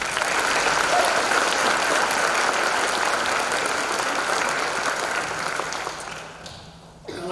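Steady, full audience applause at a spring school band concert, honoring the trumpet and other section soloists; dense clapping holds loud for about six seconds, then thins and fades near the end.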